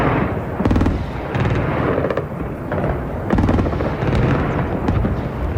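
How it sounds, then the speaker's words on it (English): Anti-aircraft fire over Baghdad during a live news broadcast in March 2003: loud bursts of rapid gunfire and booming flak come in repeated volleys, some close and sharp, over a steady background rumble. "the fiercest anti-aircraft fire of the day"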